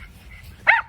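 A single short dog bark rings out near the end during an outdoor walk with several dogs, brief and fairly close over quiet low background rumble.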